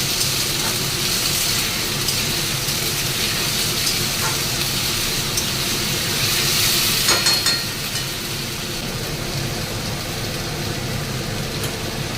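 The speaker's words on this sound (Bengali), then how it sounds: "এই আলু আর পেঁয়াজটা একটু ভাজা ভাজা হবে।" Steady broadband sizzling of potatoes and onions frying in a pan, continuous throughout with a faint low rumble underneath and a brief louder burst midway.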